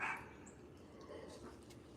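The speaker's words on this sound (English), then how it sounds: "Kitties ain't gonna sleep long with us all this dog barking going on" A dog barks loudly at the start, then quieter yips and whimper-like sounds follow over a steady indoor background hum, with no one talking.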